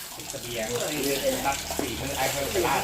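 Fish soup broth pours into a cooking pot with a steady, splashing gush of liquid at moderate loudness, while someone talks over the pouring.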